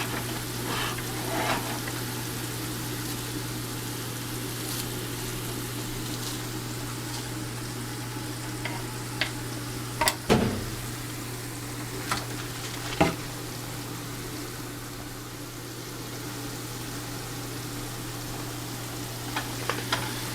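A pan of food for Italian pasta sizzles steadily on a stove burner with a soft, even frying hiss and a low constant hum, with occasional light clicks and taps over it.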